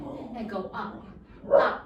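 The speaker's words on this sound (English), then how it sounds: "Excuse my barking dog." A pet dog barks indoors, a few short yips and one louder bark near the end, partly under a voice giving exercise instructions.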